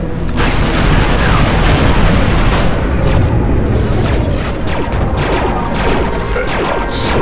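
A large explosive charge detonates in Star Wars Republic Commando, a loud sustained blast with rumbling, crashing debris that fills the whole stretch without letting up.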